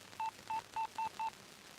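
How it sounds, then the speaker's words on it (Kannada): Five short, evenly spaced telephone keypad tones ring out as someone dials a call to a broker, clear and alone over a quiet background. "ಶೈಲಜಾ, ಆ ಬ್ರೋಕರ್ ಒಂದು ಫೋನ್ ಮಾಡು."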